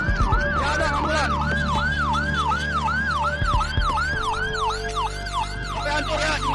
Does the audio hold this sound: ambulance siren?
yes